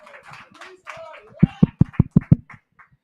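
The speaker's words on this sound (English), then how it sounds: "Can we give her some hand claps" Several people clap in a short, steady run of about six crisp hand claps at a gathering, following some talk and fading at the end.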